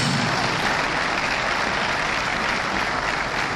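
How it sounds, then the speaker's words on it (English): An audience at a South East venture capital program event in Enugu breaks into loud, sustained applause, a dense continuous wash of clapping heard close and alone. "I think he deserves a bigger applause, ladies and gentlemen, please."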